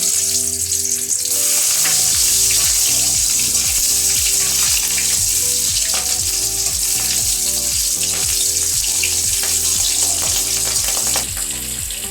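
Whole garam masala (cardamom and cinnamon) and slit green chillies fry in hot oil for chilli chicken, a loud continuous sizzle close up with rhythmic spatula stirring strokes beating through it.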